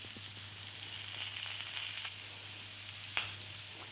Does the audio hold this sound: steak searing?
yes